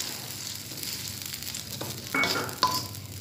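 Balinese sayur rambanan spice paste fries in a pan with rice water, making a continuous soft sizzle that swells into louder hissing bursts near the end, with a brief stirring scrape.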